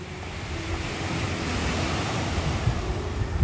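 A rough, churning sea roars in a continuous broadband wash, with waves surging and breaking nearby and wind buffeting the microphone.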